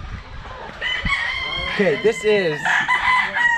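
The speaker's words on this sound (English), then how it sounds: "It's hard to hear me because there's so many chickens crowing." Roosters crowing at a Filipino fiesta with many chickens around: several loud, drawn-out crows rise and overlap in quick succession, close by, with a brief spoken word and background chatter beneath.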